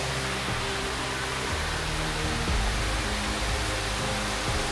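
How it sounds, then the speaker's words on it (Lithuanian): Water pours down a waterfall inside a cave in Malaysia, a constant rushing roar with a heavy low rumble that fills the space without letup. "Čia po krioklį"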